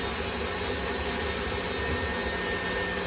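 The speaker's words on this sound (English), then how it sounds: "You want to whisk it together nicely." Banana bread batter being whisked in a home kitchen, a steady, even whirring hiss that holds constant and fairly faint, with no talking.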